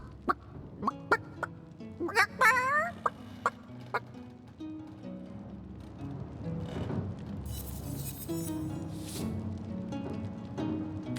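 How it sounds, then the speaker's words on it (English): A rooster clucks and squawks in the fantasy role-playing game Divinity: Original Sin Enhanced Edition, a burst of throaty calls near the start among clicky game effects, followed by a steady ambient bed and a few bright chirps. "Don't let that rooster escape!"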